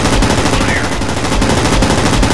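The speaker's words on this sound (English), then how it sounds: "Fire all guns!" Aircraft machine guns fire in rapid, dense bursts in the World of Warplanes flight combat game, loud and close, a continuous rattling fusillade lasting the whole moment.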